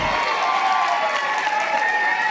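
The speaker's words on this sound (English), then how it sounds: "Crowd erupts on their behalf." The crowd at a pro pickleball doubles match at the Atlanta Slam bursts into loud sustained applause and cheering, with a dense wash of clapping and voices carrying throughout.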